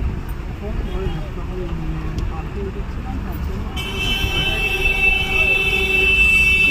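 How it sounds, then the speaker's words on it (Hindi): A train rumbles steadily at Howrah railway station in Kolkata, with a continuous low roar of rail and station noise and a high whistle-like tone emerging in the second half. "ये कोलकाता का रेलवे स्टेशन हावड़ा स्टेशन"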